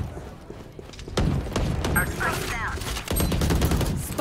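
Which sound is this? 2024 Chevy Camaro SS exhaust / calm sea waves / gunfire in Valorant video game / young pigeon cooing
gunfire in Valorant video game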